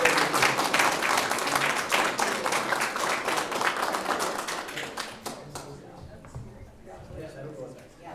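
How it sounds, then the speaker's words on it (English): Applause for students at a school board meeting: loud, dense clapping from a crowd of attendees for about five seconds, then thinning into scattered claps and room murmur as people talk. "Big round of applause for the"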